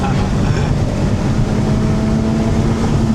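An old Honda car engine drones and revs steadily up close, a continuous loud mechanical roar with some wind-like rush over it.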